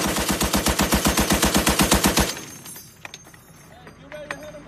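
A long, loud burst of machine gun fire, a steady rapid rhythm of sharp shots lasting about two seconds, then stopping abruptly, leaving faint background noise with a few distant clicks.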